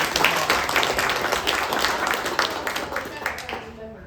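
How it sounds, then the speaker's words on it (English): Audience applause at a MAKE Roanoke annual meeting, a steady round of dense clapping from a room of people that gradually tapers off over a few seconds, with some voices mixed in. "Big round of applause to everybody that"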